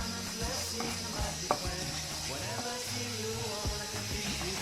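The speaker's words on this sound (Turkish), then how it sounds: "Arpa şehriyemi ilave ettim ve güzelce pembeleşinceye kadar soteliyorum" Orzo pasta sizzles and crackles in butter in a pot, with occasional scraping and stirring clinks, close and steady.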